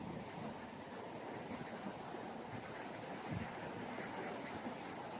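Continuous sea surf washes where the sea meets a river, a dense steady hiss of waves with wind buffeting the microphone, heard alone without talk.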